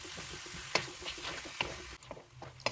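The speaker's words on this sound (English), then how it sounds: "Now that my pan is hot, I'm going to add in my chicken and spread it out evenly." Chicken, onion and garlic fry in a hot pan, giving a soft, steady sizzle with scattered crackles and pops and a few sharper stirring clicks, close and fairly quiet.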